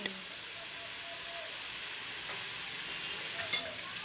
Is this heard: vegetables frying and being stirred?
yes